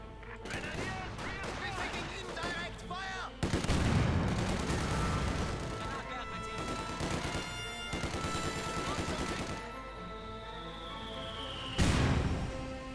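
Battle sounds in Company of Heroes 2, with mortar rounds exploding amid continuous rattling gunfire, loud and dense, with heavy blasts near four and twelve seconds.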